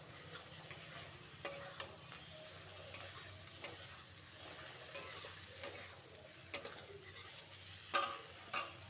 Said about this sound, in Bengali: ডিম দিয়ে একটু ভালো করে নাড়ি চাড়িয়ে নেব।